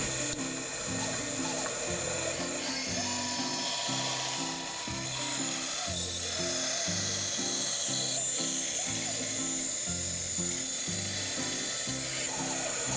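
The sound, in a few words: thinning down knife blades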